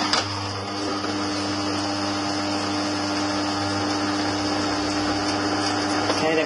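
A Vitamix blender runs steadily on Granny Smith green apple pieces, a loud, even motor whine with a constant hum throughout, close and uninterrupted, with no pauses in speed.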